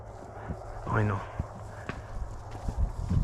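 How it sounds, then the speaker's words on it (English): A big horse's hooves clip-clop at a walk, several distinct nearby footfalls on firm ground, with a voice talking over them. "This big old horse loves to move."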